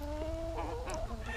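A cockerel or hen gives short throaty clucks and calls close by, over a steady low background hum.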